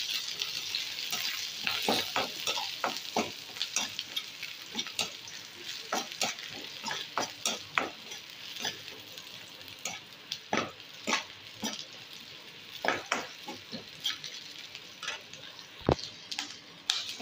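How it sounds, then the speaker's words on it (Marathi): Dried red chillies and masala fry in a pan while a utensil stirs, giving a low steady sizzle punctuated by frequent sharp scraping clicks in an uneven rhythm, fairly quiet overall. "तो परतून मातशें तळसून घेता."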